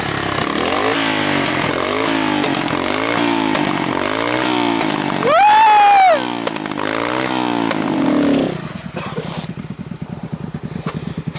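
A motorcycle fitted with a Spitfire exhaust revs hard on a foggy, snowy mountain road, a loud close rasping engine rising and falling through several blips, one sharp high rev, then settling into a lumpy idle.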